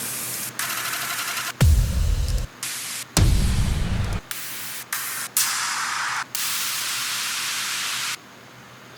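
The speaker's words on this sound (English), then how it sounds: "in some like downlifters and stuff for each transitional period" A run of white noise sweep samples used as downlifter effects for a musical build-up, broad hissing bursts starting and cutting off abruptly, some with heavy low rumble, loud and stepping through different tones, with no talk.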